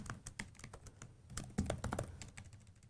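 Rapid keystrokes on a computer keyboard, close and fairly quiet, with irregular bursts of tapping while code is typed and no talking.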